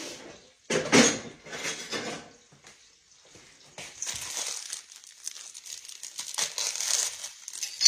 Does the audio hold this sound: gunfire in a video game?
no